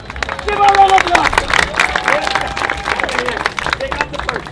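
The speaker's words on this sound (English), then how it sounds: "Give a round of applause" An audience at a televised talent show applauds a 58-year-old stuntman's act, with sustained clapping, cheering and crowd chatter, and voices calling out over it.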